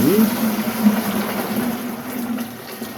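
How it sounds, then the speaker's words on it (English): Hot water from the tap gushes steadily into a bucket used for growing mushrooms, a continuous rushing pour with a faint rising tone at the start, close and even throughout. "I'm going to drop in some hot water just from the tap"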